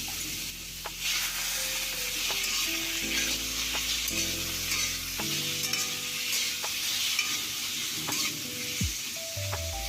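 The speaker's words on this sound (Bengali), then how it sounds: "একটু হালকা ভাজা ভাজা হবে" Turmeric frying lightly in hot oil for a papaya chutney, a steady close sizzle with faint stirring ticks throughout, while low tonal background music plays underneath.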